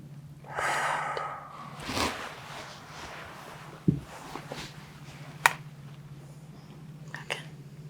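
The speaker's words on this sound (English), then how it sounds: "I'm going to have you take a deep breath in." Slow deep breaths in and out during an ASMR-style women's health physical exam, soft and close, with a couple of long airy inhalations and exhalations followed by faint rustles and light clicks over a low steady hum.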